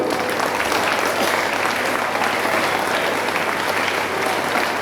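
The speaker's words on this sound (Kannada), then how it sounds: "ಅಂಥವ್ರಿಗೊಂದು ಚಪ್ಪಾಳೆ ಕೊಡ್ರಿ ನೀವು." Steady applause from an audience at a Kannada Rajyotsava state festival celebration, a dense, even wash of clapping that holds throughout with no voices over it.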